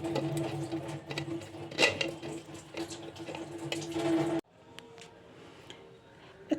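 Tamarind and date juice is strained through cloth and a strainer into a pot, with a continuous close trickling and sloshing of liquid that stops abruptly, followed by quieter faint handling sounds.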